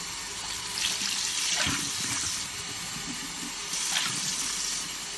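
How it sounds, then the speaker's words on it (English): Cold tap water runs and splashes steadily as the aluminum bottom chamber of a DeLonghi Alicia moka pot is rinsed at a sink, with swells of louder spattering. "I take the bottom chamber and I rinse it with cold water, because it's aluminum"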